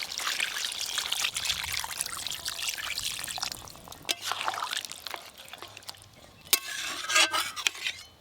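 Water poured into a pot of mutton curry with potatoes, a running, splashing pour with scraping and stirring noises and a few sharper clinks toward the end.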